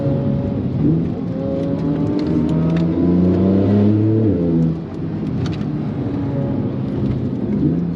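A Porsche Turbo S engine accelerates hard on a mountain road in wet weather, revving up through a rising pitch and shifting gears before easing off, with a steady road and rain roar underneath.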